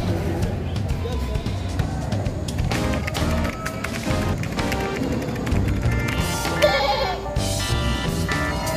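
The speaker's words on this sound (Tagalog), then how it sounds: "Mga bower ang lahi. Napakalalaking kambing." Boer goats, 12 to 17 months old, bleat repeatedly at a crowded goat market in Padre Garcia, Batangas, amid constant babble and people talking nearby.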